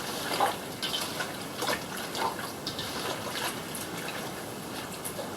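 Marinade liquid is poured over goose jerky meat and worked in by hand, soft wet trickling and squelching with small splashy bursts, faint and close, no talking.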